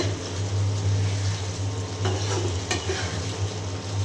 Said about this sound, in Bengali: এখানে যে গোশ কষানো হচ্ছে